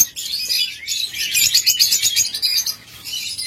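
Lovebirds in a breeding pair chirp continuously in a dense, high twittering chorus, close and fairly loud, with overlapping tweets over a low background hum.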